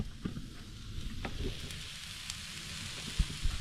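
A steak frying in a pan at a truck camper campsite gives a steady, fairly quiet sizzle with a few soft pops and clicks, and no one speaks over it.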